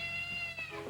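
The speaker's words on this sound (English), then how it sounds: "Their cat is stuck in the rim of a tire." Cat stuck in the rim of a tire, meowing in one drawn-out, strained wail that bends downward at the end, close and loud.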